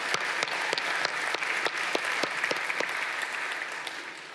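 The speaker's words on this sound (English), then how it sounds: "So let's give them a big round of applause." Conference audience applause at a tech event, steady dense clapping from a large crowd, moderately loud and close, holding evenly throughout with no talking.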